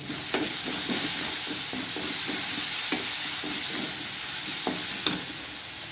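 Ginger garlic paste and curry leaves fry in a pan with a steady, dense sizzle and a run of rhythmic scraping strokes from a stirring spoon, close and even in loudness. No one talks.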